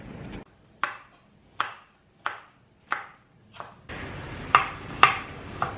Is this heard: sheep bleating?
no